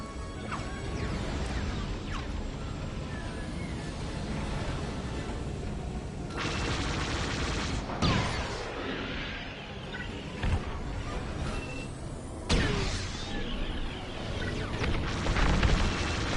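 Starfighter weapons firing on shuttles in the Star Wars Squadrons video game, a chaotic run of crashing blasts and explosions over a dense, roaring battle backdrop, with several louder impacts standing out.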